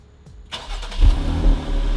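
A Jeep with its stock exhaust cranks and fires up close by, a sudden catch followed by a deep, steady rumble that swells briefly with a rev. No one speaks.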